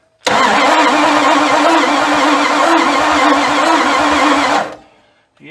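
A 1979 Dodge D300 truck abandoned in the woods for over twenty years cranks loud and steady for about four seconds as its starter struggles to turn the engine over, then stops abruptly.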